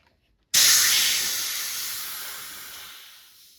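Pressurized air bursts from the charging line for an AEA Harpoon or Defender air cartridge, a sudden loud close hiss that starts abruptly and fades steadily over about three seconds.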